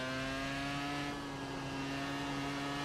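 iR-01 race car engine in a racing game revving high in third gear, a steady sustained whine with strong even harmonics, loud and continuous throughout with throttle held, no talking.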